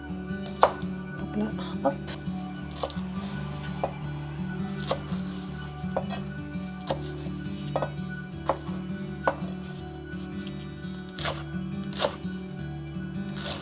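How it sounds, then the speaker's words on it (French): Knife chopping chives into short pieces on a cutting board, a steady run of quick close taps over a low background hum, with brief speech. "Pour la ciboulette, je vais couper en petits tronçons."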